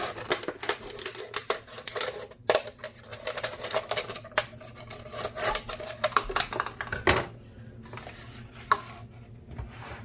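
Scissors cut a plastic bottle in half, a run of sharp crunchy snips and crackles in quick irregular bursts, close and fairly loud, easing into quieter rustles at the end.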